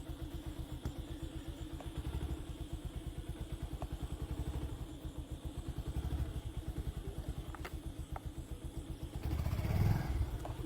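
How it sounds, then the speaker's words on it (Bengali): A motorcycle engine running nearby on a village road, a steady low rhythmic putter that swells louder near the end, with no talk over it. "হুন্ডার উঠো মোটর সাইকেল উঠো"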